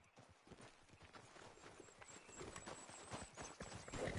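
Horse hooves clip-clop steadily in the Red Dead Redemption video game, a continuous rhythmic walking gait with a brief whinny-like tone, heard alone against a busy background without talk.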